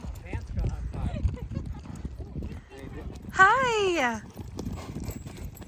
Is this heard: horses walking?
yes